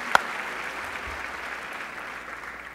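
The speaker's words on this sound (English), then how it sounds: "let's give your families a round of applause" A crowd at a Quantico graduation ceremony for the class of 2011 applauds the graduates' families with a steady, even wash of clapping. It sounds moderately distant and continuous, with no voices over it.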